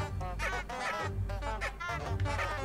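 Trumpet flowers in the video game Hogwarts Legacy give off repeated duck-like honks, a steady run of nasal calls layered over a game soundscape that keeps a low rumble going underneath.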